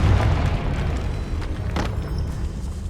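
A Confringo blasting spell explodes in Hogwarts Legacy, a heavy booming burst at the start that rumbles and decays over a few seconds, with a faint crackle partway through.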